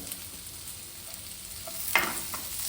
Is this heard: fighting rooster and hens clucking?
no